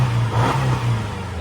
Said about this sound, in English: Let's give it a couple of revs to make sure.